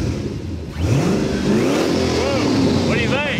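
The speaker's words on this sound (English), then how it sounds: "I want to hear this turbo Hemi honk a little bit" A turbocharged Hemi engine in a late-model muscle car cranks and fires up, then revs with a rising, roaring note that holds steady and loud, people talking over it.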